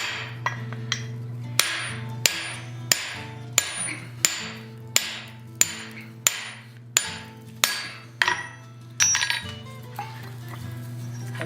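A hammer punches a hole through hot wrought iron while forging an adze: about a dozen sharp, ringing metallic strikes at a steady, even pace, loud and close, each followed by a short decaying ring.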